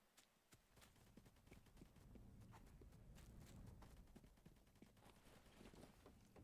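Footsteps of another player in an online multiplayer video game, a steady run of soft thuds and clip-clop-like steps close by, moderately loud, with no talk over them.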